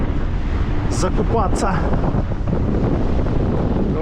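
Strong wind buffeting the microphone on an outdoor ride along the Crimean coast near Yalta in February, a loud continuous low roar with someone speaking briefly over it.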